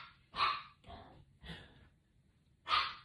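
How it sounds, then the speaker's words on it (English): Puppies playing, letting out four short, sharp yips and barks in quick bursts, with the last one loud and close, and soft breathing and scuffling in the gaps. "The puppies are playing. Oh my gosh, they're so noisy."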